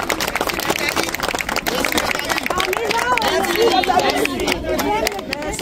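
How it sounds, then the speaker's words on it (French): A crowd at an outdoor march for justice for young people and children in Canada claps and cheers for Nathalie, steady applause mixed with chatter and shouting voices throughout. "Il faut applaudir Nathalie qui est avec nous"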